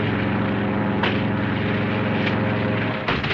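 A nearby propeller airplane roars loudly and steadily for the whole stretch, its engine drone swelling slightly as it passes close, with no talk over it.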